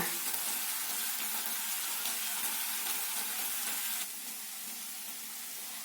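A continuous soft sizzle of savory muffin filling frying in a pan over medium heat, even and unbroken, with no voices.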